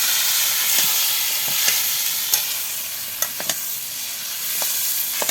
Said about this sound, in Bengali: এই চর্বিগুলো এখন ভালোভাবে কষে একবারে ভুনার মতো করে নেবে